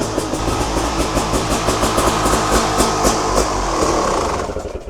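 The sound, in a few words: motorcycle engine with Chinese clone carburetor stalling, out of fuel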